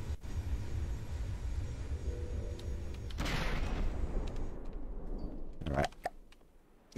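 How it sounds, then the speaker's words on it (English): Skyray weapons firing in the From the Depths video game: a dense rumbling barrage with a louder whooshing burst partway through and a sharp impact near the end, under game ambience. "the Skyrays are firing"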